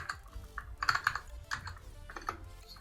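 Short bursts of keystrokes on a computer keyboard as a folder name is typed, irregular clicks in small clusters, close and fairly quiet with no talking.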